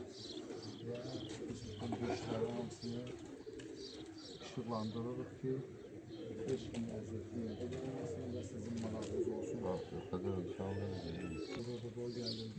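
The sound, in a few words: pigeons cooing in the yard, racing pigeons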